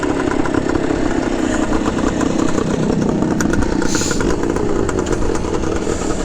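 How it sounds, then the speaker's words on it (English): A 1971 Yamaha RT1 360 motorcycle runs with a loud, steady, close engine drone that holds an even level throughout. "We'll switch bikes so you can watch this one rip down the road"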